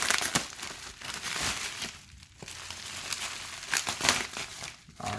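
Packaging for a Seagate BarraCuda 2TB 3.5-inch hard drive is ripped and crinkled open up close, with irregular bursts of crackling plastic and tearing that rise and fall over several seconds.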